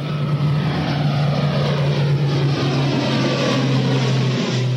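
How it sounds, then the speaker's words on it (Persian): An ATR 72 turboprop airliner takes off from Mehrabad Airport in Tehran, its engines giving a loud, steady propeller drone with a constant low hum throughout, close by and with no talking. "هواپیما بعد از دو ساعت تأخیر بالاخره بلند می شود"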